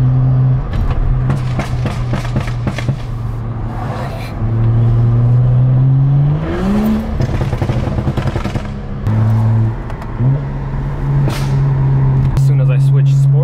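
A BMW with an MHD tune idles and revs in sport mode, its exhaust throwing burbles and sharp backfire pops on the overrun, close and loud, with a brief voice over it.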